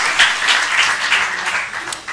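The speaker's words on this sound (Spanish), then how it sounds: "Un aplauso que es Oscar, ha sido para Oscar." A hall audience at a science talk event claps steadily and fairly loudly, the applause swelling and easing in waves before tapering off.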